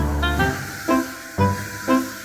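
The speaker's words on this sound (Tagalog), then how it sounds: "I-spray na rin ko. Spray gun." A spray gun applies wood finish to a door, giving a continuous airy hiss with several short, louder pulses close by.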